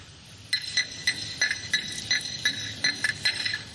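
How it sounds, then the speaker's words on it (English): A single coin shaken inside a cup during a close-up magic routine, giving about eight to ten bright metallic clinks and rattles in an uneven rhythm, close and fairly quiet with no talking. "That's the sound of a coin in a cup."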